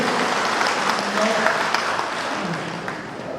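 Applause from the audience at an anti-poverty summit in Misamis Occidental honours frontline officials and mayors, a sustained dense clapping that continues evenly for several seconds with a voice faintly audible beneath.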